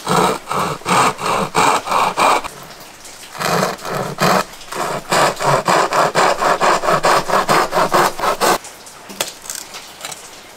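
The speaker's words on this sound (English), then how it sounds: "I'm just gonna make a series of cuts and then just chisel that out." Handsaw cutting a series of slots into a wooden cigar box to seat a guitar neck, loud rhythmic back-and-forth strokes in two bursts with a short pause between, no talking.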